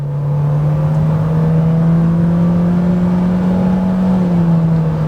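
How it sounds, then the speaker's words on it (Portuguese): A 2020 Renault Stepway Iconic with a CVT, engine held at high revs under full throttle with the air conditioning on, giving a loud, steady drone that climbs slightly and then settles, heard from inside the cabin with no talking. "vamos pisar tudo, ó. O giro sobe lá em cima"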